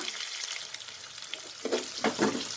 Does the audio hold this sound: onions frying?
yes